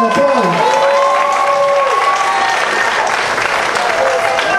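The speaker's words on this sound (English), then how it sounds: "give this lady a bigger round of applause" An audience at a Christmas concert gives a female singer a big round of applause; loud, continuous clapping with some crowd noise, while a brief held tone and a voice sound early on.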